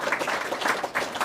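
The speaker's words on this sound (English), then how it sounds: "Round of applause." A JavaScript meetup crowd in Edinburgh applauds after a talk, a short spell of moderate, even clapping from a small room.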